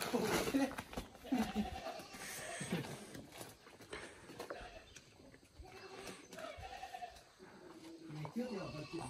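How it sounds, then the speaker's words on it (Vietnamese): A goat bleats near a rural home in Vietnam, short wavering calls heard in bursts under ongoing conversation and outdoor background noise. "Đây có một con dê này, nhà em có một con dê này."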